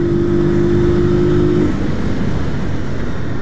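Honda CG 125 Fan motorcycle from 2008 revving loudly up close, a steady engine roar with a sustained tone that drops away partway through while the engine keeps running.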